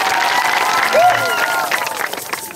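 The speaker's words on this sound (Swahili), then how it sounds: "Tupigie Yesu makofi jamani." Crowd applause at an open-air revival meeting: steady, dense clapping from a large gathering lasting throughout, with crowd noise and a brief whistle-like tone near the middle.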